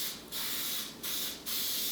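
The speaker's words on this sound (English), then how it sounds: "I'm just going to spray it with some cooking spray" Cooking spray hissing into a regular-sized loaf pan in three short bursts, close and clear with brief pauses between them.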